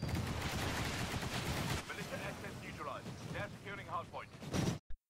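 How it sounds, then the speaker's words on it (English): Sidewinder weapon fire in the video game Titanfall, a dense barrage of rapid blasts and impacts running continuously under a speaking voice before cutting off abruptly. "I hear Sidewinder shots and I see the enemy appear on the minimap."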